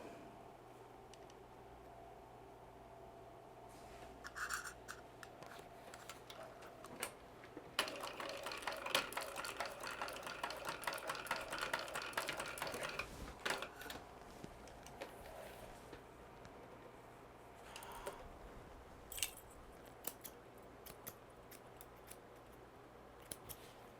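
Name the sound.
sewing machine stitching over a wristlet edge with hump jumper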